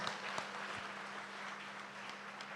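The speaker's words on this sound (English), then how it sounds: "Let's give them a big round of applause to all our panelists." Faint, distant applause from an audience at a realtors' panel discussion, a soft continuous patter of clapping with a low steady hum beneath it.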